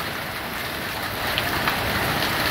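Heavy rain mixed with hail, stones around 2 cm, pours down in a violent thunderstorm near vineyards, a dense steady roar close by with a few sharper impacts toward the end.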